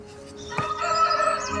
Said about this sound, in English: There's about 5 roosters that have been making rooster noises since about 4 AM.